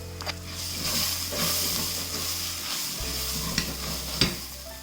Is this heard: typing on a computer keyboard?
no